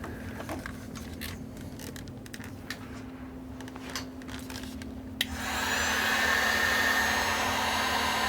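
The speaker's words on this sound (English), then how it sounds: "Let's grab the hot air gun here real quick." A hot air gun is switched on to reheat heat shrink tubing during a repair, starting abruptly after quiet handling clicks and then blowing as a steady, loud whooshing roar up close.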